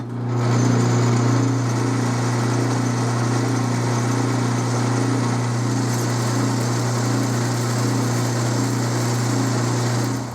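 A small lathe turns a brass workpiece with a carbide cutting tool, its motor giving a steady, close, even hum with a droning whine that runs unbroken for the whole stretch, with no talking.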